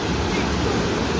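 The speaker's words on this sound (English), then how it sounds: "That waterfall goes all the way down into that ravine." A Lake District waterfall pouring down into a ravine, a loud continuous roaring rush with no break, heard alone.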